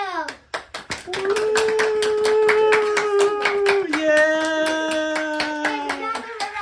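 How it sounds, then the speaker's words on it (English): A group, including children, applauds a new guest at an ice cream taste test, with sharp rapid claps and loud cheering and whooping voices carrying over the clapping throughout. "let's have a round of applause for Phil!"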